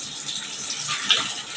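A brief, close rush of water gushes as chopped banana stem is rinsed for cooking in a home kitchen, a short hissing burst with no talking.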